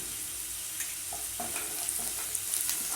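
Onions with chilli, turmeric, garam masala and sambar powders frying in oil in a pan, a soft steady sizzle with light scraping stirs, no talk.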